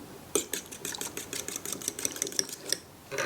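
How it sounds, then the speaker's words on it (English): Two eggs are whisked in a bowl with a rapid, even train of close metallic clicking strokes that runs for about three seconds with a brief pause near the end. "I'm just gonna whisk together 2 eggs"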